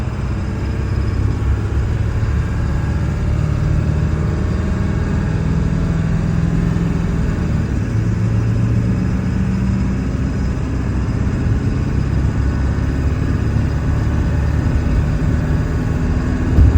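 A 2000 Ford F250 pickup with the 7.3 Powerstroke diesel, heard from inside while driving: a steady, loud low engine drone and rumble with road noise, continuous and without talk.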